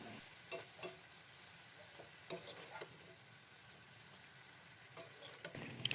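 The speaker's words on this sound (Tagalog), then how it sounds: "Lagyan din natin ng asin at haluin nating mabuti." Chicken and stir-fry vegetables, including Baguio pechay and cabbage, are stirred in a hot, sizzling pan, with a steady fry hiss broken by several sharp scrapes and clatters of the spatula against the pan.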